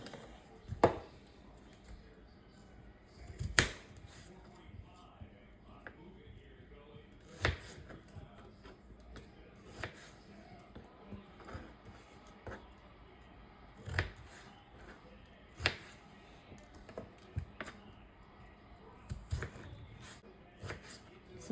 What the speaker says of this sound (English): I'm going to cut these potatoes in cubes.